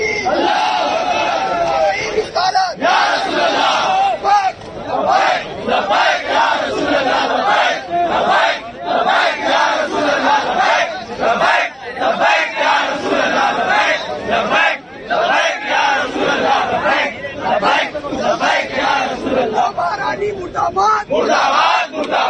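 A protest crowd outside a jail chants slogans against the jail administration and a jailer in loud, rhythmic unison, voices rising and falling in repeated bursts throughout.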